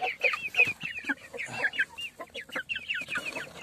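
Two backyard desi hens in a small coop, clucking and murmuring in a steady run of short, close calls throughout, with no talk over them.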